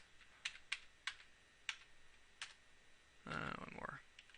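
Sparse, quiet clicks of typing on a computer keyboard, a handful of separate keystrokes followed by a brief rustling burst.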